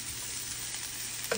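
Corned beef with garlic and onion sizzles in oil in a pan, a steady, fairly quiet crackle with no talking.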